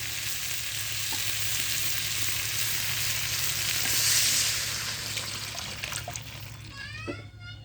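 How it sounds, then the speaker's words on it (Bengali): Water poured into a pan of fried parshe fish with papaya, potato and yardlong beans, a steady rushing sizzle that swells and then fades, ending in a few bubbling crackles. "এটাই পরিমাণ মতো জল দেবো"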